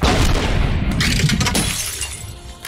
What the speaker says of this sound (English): Mace Windu just walks right up to the cockpit and uses the force to shatter the glass